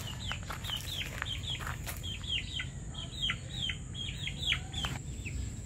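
Chickens cluck repeatedly in quick, uneven bursts of short calls over a steady low hum, sounding fairly close.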